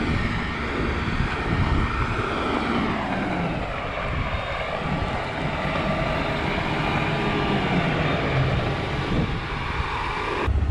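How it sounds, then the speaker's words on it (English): A big self-propelled crop sprayer with a tall frame drives into a standing cornfield, its engine a steady, loud droning hum that holds throughout with no voices. "We're just getting a big self-propelled sprayer in."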